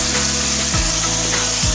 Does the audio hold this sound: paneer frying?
yes